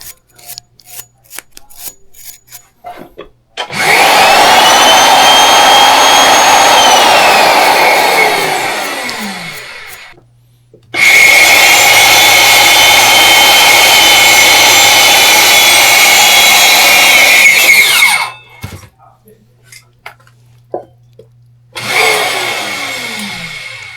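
A die cuts threads onto a metal pipe, producing loud, harsh rasping and grinding in three long sustained runs separated by short pauses with scattered clanks and ticks, close up.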